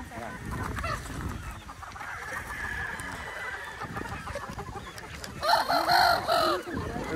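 Gamefowl roosters and young pullets cluck steadily nearby, and a rooster's crow rises near the end, with people talking over the flock.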